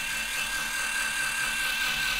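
A Worx WX240 cordless screwdriver runs on setting 1 with a steady, high-pitched motor whine that holds evenly throughout, close and fairly loud.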